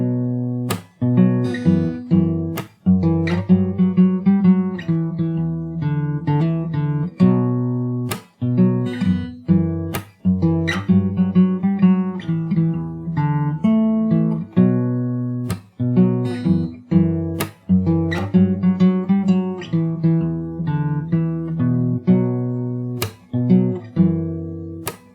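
An acoustic guitar plays the first verse of a song from Cyberpunk 2077, steady strummed chords with sharp accented strums in a relaxed rhythm, clear and close with no singing or talk.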